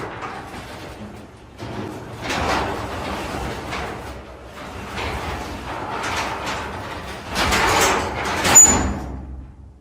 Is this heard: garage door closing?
yes